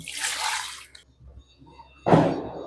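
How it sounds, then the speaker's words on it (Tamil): Water pours into a pot of chicken salna in two short bursts, a splashy rush at the start and another toward the end, with quiet dripping and faint clatter between. "தண்ணி ஊற்றிக்கலாம்"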